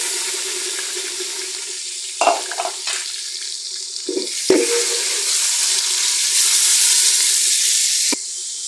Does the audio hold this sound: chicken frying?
yes